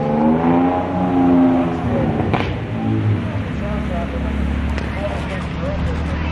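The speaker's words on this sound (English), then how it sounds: "Beamer doing some snow drifting down Main Street, Banff" A BMW drifting through snow on Main Street in Banff during heavy snowfall, its engine droning and surging nearby with tire and slush noise, while people talk over it.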